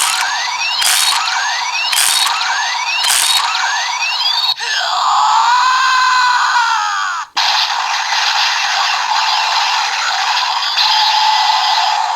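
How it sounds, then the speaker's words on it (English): Electronic scream effect from the CSM Tatsulot toy of Kamen Rider Kiva, opening with four sharp rising shrieks in a row, then a sustained wavering wail, a cut, and a long bright buzzing tone, loud and close. "that scream that Tatsulot makes in the deluxe version is accurate"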